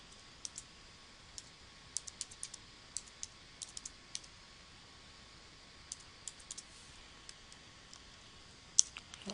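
Sparse bursts of keystrokes on a computer keyboard, typing a domain name at a login screen, with quick clustered clicks and pauses between, fairly close but soft.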